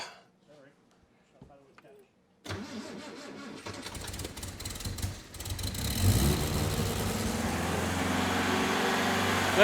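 Quiet handling noises give way to a 1964 Triumph TR4 engine starting, then running steadily and warming up, growing louder as revs rise, with people talking in the background.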